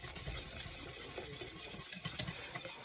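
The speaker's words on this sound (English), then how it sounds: "While it's off the heat, it's important to actually continue whisking to get the excess heat out" Hot Meyer lemon curd being whisked off the heat, a continuous close scraping and stirring swish of a whisk in a pan, steady and moderately loud.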